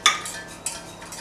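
A utensil stirring milk into a chocolate soufflé base in a bowl, three or four sharp clinks and scrapes against the side, close and quick, with no talking.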